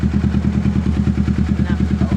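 A Kawasaki big bike's engine runs steadily and close, with a fast, even pulsing throb and light mechanical clatter, heard alone for a couple of seconds.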